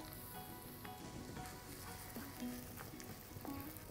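Rice stirred into a pan of softly fried onion and garlic for a tomato basil risotto, giving a low, even sizzle with occasional scrapes and light clicks, faint and close, without talk.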